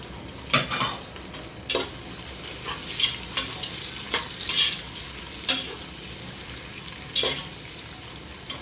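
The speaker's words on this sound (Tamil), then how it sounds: "ஆனியன், அது கூட பச்சை மிளகாய் ஒரு 4 சேர்க்க போகிறேன்." Onions and four green chillies frying for home-style chicken biryani, a steady sizzle under repeated scraping stirs of a spoon against the pan, close by with no speech.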